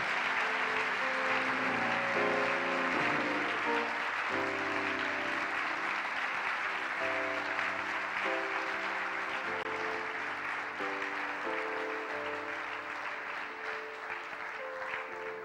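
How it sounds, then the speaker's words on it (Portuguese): A congregation applauds during a family church service, with sustained, steady clapping over soft instrumental music underneath. "Será que alguém pode aplaudir Jesus?"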